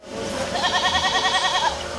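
A goat on a farm beside a castle winery gives one wavering, trembling bleat, close and clear over a faint outdoor background.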